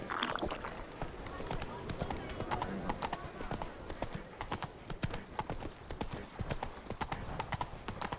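Horse hooves clip-clopping at a steady trotting rhythm in the video game The Witcher 3: Blood and Wine, close and continuous beneath a voice speaking over the gameplay.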